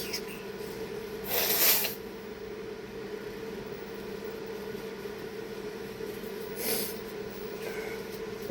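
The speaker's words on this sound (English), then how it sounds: "I gotta blow my nose." A person blows their nose in the morning, two short, breathy honking bursts a few seconds apart, close and fairly quiet over a low room hum.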